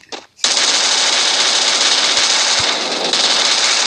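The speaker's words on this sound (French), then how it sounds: "me tire pas dessus, s'il te plaît" Automatic gunfire in the Free Fire video game, a loud, sustained burst of rapid machine-gun fire running almost without a break after a brief sound at the start.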